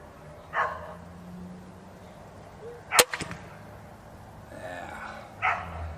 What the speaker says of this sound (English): And my neighbor's dogs are barking.